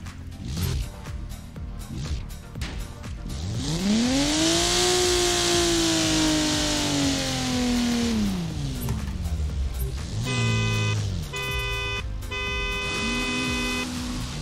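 In the Forza Horizon 4 racing game, a car engine revs and sweeps up and down in pitch, then several loud car horn honks sound in short repeated bursts near the end.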